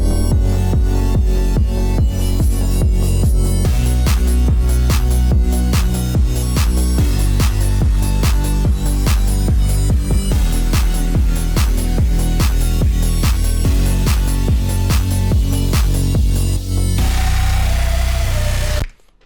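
A loud, dense electronic dance track with a pounding beat and layered synths, ending in a brief burst of rising noise before cutting off.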